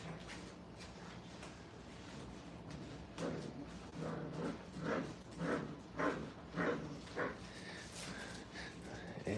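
Puppies in a training kennel bark and yip in a run of rhythmic bursts, several short volleys in quick succession, with fainter whimpers and a quiet background between them.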